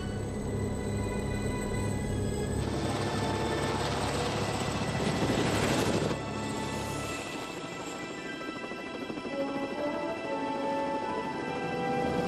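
A helicopter flies over a snowy mountain forest in cold, overcast weather. Its engine and rotor make a loud, continuous drone that swells and then settles slightly lower for the rest of the clip, with no voices.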